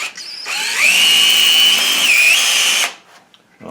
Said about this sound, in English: Basically, you're removing some wood and it's on the drill bit.